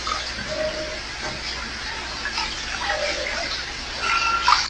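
Floodwater in a flooded living room after heavy rain in South Africa, heard as a steady wash of sloshing, trickling water with splashy surges that build toward the end, close and continuous.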